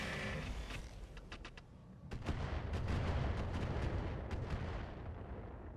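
Mech weapons fire in tandem in the video game Roguetech, a rumbling barrage of heavy shots with sharp repeated cracks over a continuous low roar, fairly faint overall.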